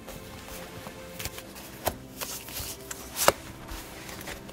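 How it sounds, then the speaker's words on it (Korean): Tarot cards being flipped and laid out during a reading, soft scattered card clicks and slides, with two sharper taps standing out against a quiet room. "카드 오픈하겠습니다."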